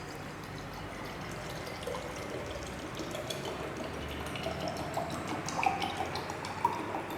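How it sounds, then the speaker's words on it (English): Water trickling and dripping into a glass pycnometer bottle during a specific gravity test, a faint, steady liquid patter with a few small splashes near the end. "So only water we have to add into the picrometer bottle."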